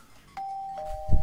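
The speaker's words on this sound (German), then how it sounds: "Wer klingelt hier?" A video game doorbell rings once, a clean sustained two-tone chime close and loud, ending with a low thump.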